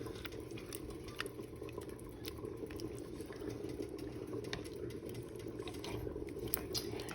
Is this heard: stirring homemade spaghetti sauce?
yes